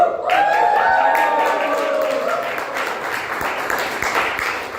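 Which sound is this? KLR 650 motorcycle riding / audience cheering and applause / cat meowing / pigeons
audience cheering and applause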